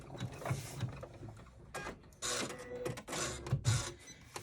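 An embroidery machine stitches a zipper pocket in the hoop through thick layers of material, producing uneven mechanical thumps and whirring bursts separated by short pauses.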